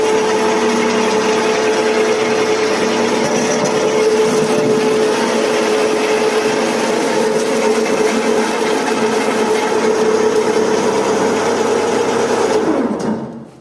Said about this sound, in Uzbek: Muzlagan go'shtlarni kubik shaklda to'g'rab beradigan uskunamizda endi piyozni to'g'rab ko'rsatib beramiz.